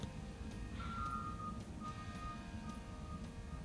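Vehicle reversing beeps sound faintly from outside, a thin repeating tone over a steady low hum of background noise.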